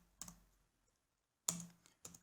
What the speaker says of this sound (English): I will jump and type ls